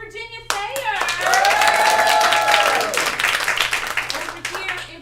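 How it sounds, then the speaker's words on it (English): A round of audience applause at a live improv comedy show: a sudden surge of many clapping hands, with whoops and cheering voices riding over it, loud and sustained before thinning out. "can we give a round of applause up on tech for Virginia Thayer?"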